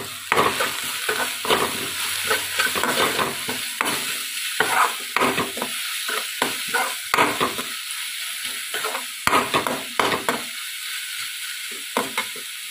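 Dry spices, turmeric, red chilli and salt, roast in a pan while being stirred, with repeated short scraping strokes over a light sizzle, close and uneven in rhythm, no talk.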